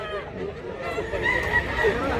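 Chickens bought for transport to Masbate, a cluster of fowl giving brief crowing and clucking calls at mid distance over a steady background of people chattering.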